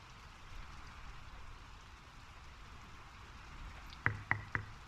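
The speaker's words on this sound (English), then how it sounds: "The rain's picking up." Steady rain hiss by a fjord in the game Draugen, soft and continuous, with three sharp taps near the end.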